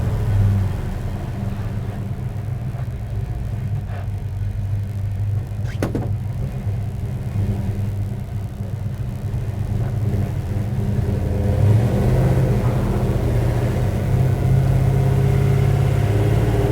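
A 1927 Ford Model T hot rod engine runs from inside the moving car as a loud, continuous low rumble, swelling steadily as it accelerates below full throttle.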